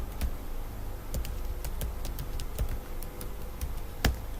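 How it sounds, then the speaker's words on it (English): Typing a username and password on a computer keyboard, a sparse series of light, distinct key clicks at an uneven pace, close and fairly quiet over faint background hiss. "I'm going to type that in and my password."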